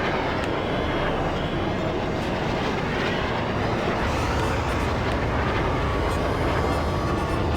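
A monorail shuttle in the Star Wars Racer game rolls by with a steady, loud rumbling and rattling drone that holds throughout without pause.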